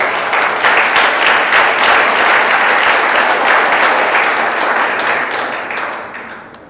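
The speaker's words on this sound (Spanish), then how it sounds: "Vale, un aplauso, Milton" Sustained audience applause for the speaker Milton after a programming conference talk, dense, loud and steady, then fading toward the end.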